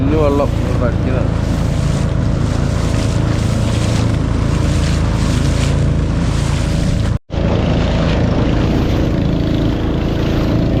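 A boat moves across the water on a rainy, windy day during a fishing trip, its broad steady engine-and-water rumble continuous and fairly loud, broken once by a brief dropout, with wind noise throughout.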